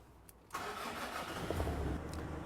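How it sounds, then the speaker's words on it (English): Car engine cranks and catches about halfway through, then settles into a steady close idle with a slight rise in revs. "So now we're going to turn the engine on so we can see live data values."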